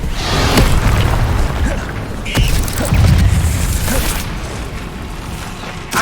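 Incendio fire spell cast in Hogwarts Legacy, a loud rumbling burst of magic with booming low thumps and crackling impacts that swell and fade over several seconds.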